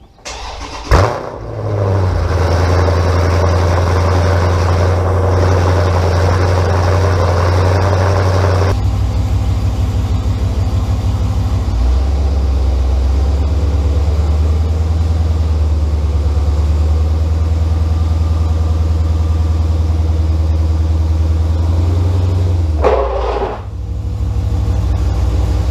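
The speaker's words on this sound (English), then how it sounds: "let's go ahead and drive the car up on these ramps" A Dodge Challenger engine starts and settles into a loud, steady idle up close, shifting in pitch as the car creeps up onto ramps, then shuts off near the end with a brief clunk.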